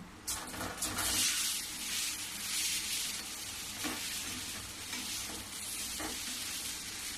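Semolina balls dropped into hot oil with turmeric in a pan, sizzling and hissing steadily up close, with a few soft stirring knocks and no talk.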